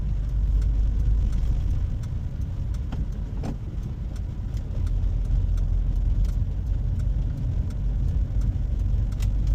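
A car engine runs steadily throughout with a continuous low rumble and a few faint clicks on top, recorded from inside the vehicle during a driving lesson in Sorsogon, with no one talking.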